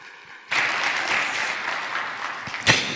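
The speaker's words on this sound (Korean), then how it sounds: "우리 큰하나님과 축복의 박수 해주셨으면 좋겠습니다." A church congregation breaks into steady applause that continues evenly for a few seconds, with one sharper clap near the end.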